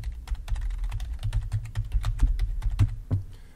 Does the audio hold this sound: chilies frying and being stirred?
no